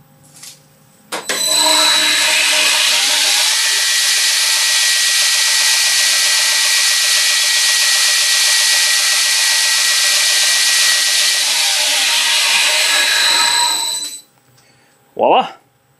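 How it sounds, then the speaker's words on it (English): A disc sander grinds a burr off a metal part, starting abruptly and holding a loud, steady, abrasive whine with a tonal hum for about thirteen seconds before cutting out, followed by a brief squeak. "But I got to disc sand the burr off of here."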